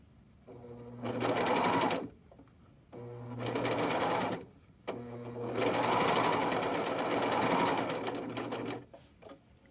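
An overlock serger stitches along fabric edges while its knife trims, running loud and near in three long bursts with short pauses between them.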